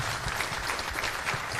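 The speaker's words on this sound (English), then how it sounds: "if we can give a round of applause for that" Audience at a wrestling convention event gives a round of applause, a dense, steady wash of many hands clapping at once, fairly loud and continuous for the whole short stretch.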